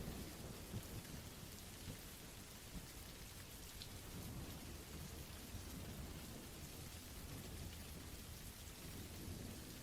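Steady, dense rainfall pours throughout a thunderstorm, with low rumbling thunder rolling continuously beneath the hiss of drops hitting surfaces, with no voices present.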